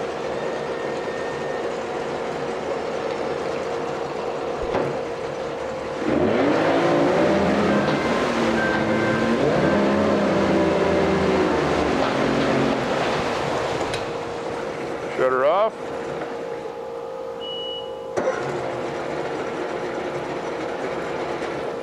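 A 1995 Mercury 60 hp two-stroke outboard with a 20-inch long shaft runs steadily nearby, a droning hum that rises briefly as it revs with a rattling edge, then settles back.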